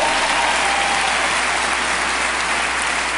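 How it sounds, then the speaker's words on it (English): An audience at a large leadership convention breaks into applause, a loud, dense, continuous wash of clapping that fills the room from start to finish. "Clap, yeah."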